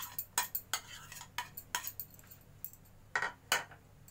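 Chopped tomatoes are dropped into a mixer grinder jar for chutney, producing a series of close, sharp clinks and knocks against the jar, irregular but rapid, with quiet background between hits.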